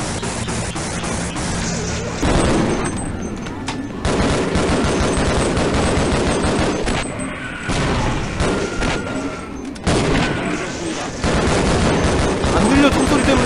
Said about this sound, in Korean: 안 들려, 총소리 때문에.